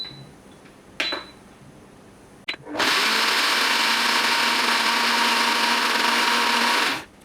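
A blender whirs loudly and steadily for about four seconds while blending beetroot ketchup with the lid on, after a few brief clicks and knocks, then cuts off abruptly.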